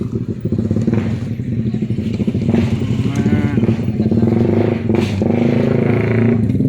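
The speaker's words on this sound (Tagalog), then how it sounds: "ang daming mga nakamotor parating dito." Several motorcycles arriving at the entrance of Tagbak Marine Park in Southern Leyte, a steady loud engine drone with revving swells and a passing whine, close by and continuous.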